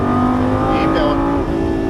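An exotic sports car engine pulls hard on the Las Vegas Speedway track, a loud steady drone that climbs under load with a shift near the middle, while an instructor talks over it.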